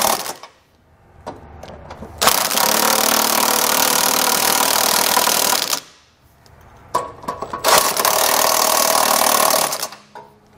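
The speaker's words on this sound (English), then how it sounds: "we can go back and tighten them down with an 11/16 socket" A powered socket driver with an 11/16 socket tightens Curt trailer hitch receiver bolts on a 2020 GMC, producing two loud, sustained whirring bursts separated by quieter clicks and handling noises.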